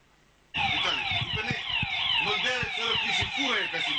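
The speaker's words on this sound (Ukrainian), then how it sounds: "Гучна сирена лунає на цьому посту вже більше року." A loud, wailing electronic alarm siren at a roadside checkpoint blares continuously, its pitch sweeping rapidly up and down, close and dominating everything else.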